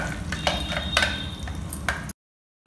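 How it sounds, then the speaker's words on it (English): A kachori filling paste, made with hing and coarsely powdered spices, is stirred in a pan with a steady scraping hiss and a few louder strokes. It is close, then cuts abruptly to silence. "continue stirring it till it becomes quite dry"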